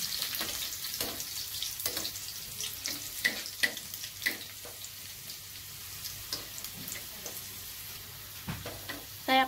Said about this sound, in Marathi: तूप तापल्याच्या नंतर त्याच्यात लसूण टाकलाय।